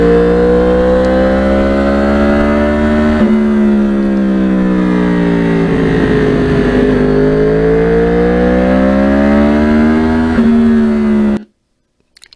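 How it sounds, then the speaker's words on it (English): A Yamaha R1 crossplane engine howls loudly and steadily from on board while riding, its pitch rising and falling through the gears for about eleven seconds before cutting off abruptly. "I don't know that there's any sound like that in the world of motorcycling."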